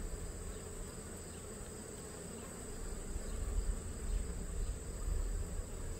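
Honeybees drone steadily around an opened Langstroth hive during a summer inspection. The buzzing is continuous and close, and it swells a little toward the end, with no talk over it.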